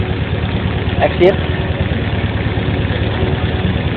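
Steady idle of a car with an EFI engine, a continuous low rumble with a constant throb, while someone speaks briefly over it.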